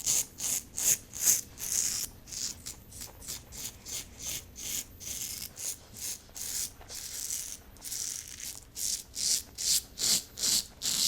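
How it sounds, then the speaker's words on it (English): Razor strokes scraping across facial stubble in a close, rhythmic series of short rasping passes, steady and unhurried with brief pauses between strokes, no talking. "if you want the closest shave, shave with, across, and then against stubble growth"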